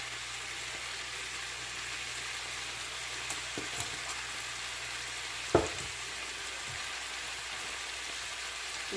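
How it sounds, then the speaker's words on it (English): Ackee sizzling steadily in hot oil in a pan with black pepper, a constant frying hiss broken by a few soft spoon stirs and one sharper scrape partway through, with no talk. "stir it, but you don't want your ackee to mash up"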